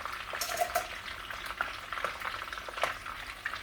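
Stuffed peppers fry in a pan of hot oil, giving a steady close crackling sizzle with scattered sharper pops and spits throughout.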